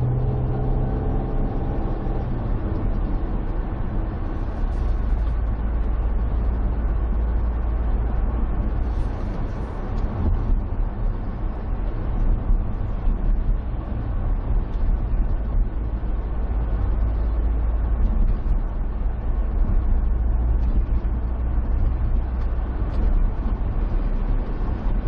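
A car cruises along a road in fog on the way to work, a steady low road and engine rumble with tire noise that stays even and close throughout.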